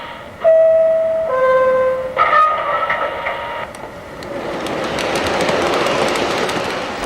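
A toy MTH Rail King O gauge model subway train's station stop plays out: a two-tone chime, then a brief announcement-like sound, then a rising hiss of motor and wheels.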